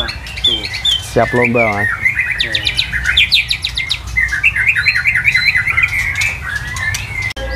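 A competition-ready white-rumped shama (murai batu) sings loud and close in a bird shop, pouring out rapid whistled phrases and trills, while other birds chirp and squawk around it and someone speaks briefly.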